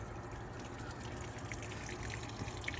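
A full-size washing machine fills with water, a faint, steady trickle and rush of flow with low rumble, close by and without talk.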